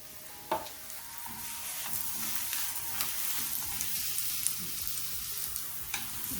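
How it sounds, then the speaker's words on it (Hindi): Corn flour roti (makki ki roti) frying in oil on a pan after being flipped, a steady hissing sizzle with occasional soft pops and stirring taps, no voices. "हम थोड़ा सा ये ऑयल साथ डालेंगे और इसको फ्लिप करेंगे बड़ी प्यार से"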